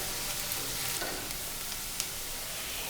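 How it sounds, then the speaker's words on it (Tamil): Curry leaves crackle and sizzle in hot oil in a pan for a raw banana fry, a steady, close frying hiss running the whole time with no talk. "கருவேப்பிலை போட்டுக்கலாங்க."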